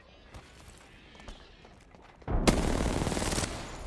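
Gunfire in a 2D game sounds after quiet footstep-like ticks, then a loud dense burst of rapid automatic shots starts partway through and carries on to the end.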